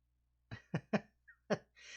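A short burst of several sharp coughs in quick succession, close and clear against silence, followed by a breathy exhale.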